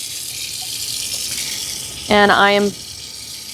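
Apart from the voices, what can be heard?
tap water running into lab sink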